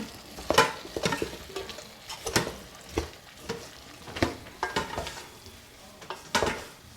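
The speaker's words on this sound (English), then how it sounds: "You have to mix this really well because you want all the potatoes, all the vegetables in there to really soak up the ingredients." Vegetable biryani mixture with potatoes is stirred in a pan, a series of close, rhythmic scraping strokes about every half second over a faint sizzle, with no talking.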